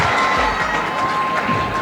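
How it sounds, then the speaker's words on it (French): A school quiz-show audience applauds and cheers for two competing lycée teams in a semi-final in Yamoussoukro, a dense, steady wash of clapping and crowd noise filling the whole moment. "On applaudit les deux équipes."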